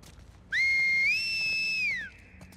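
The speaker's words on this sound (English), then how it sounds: "Enough with the whistling, dude." A character whistles in The Last of Us Part 2, one clear sustained tonal whistle that rises slightly in pitch midway, holds, then glides down and stops, alone over quiet game ambience.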